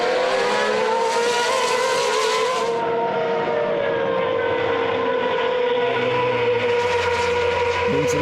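Formula-style race cars at Portimao during the Acceleration 2014 FA1 race scream past with loud, high engine notes that rise and fall as they pass, layered over a continuous circuit roar.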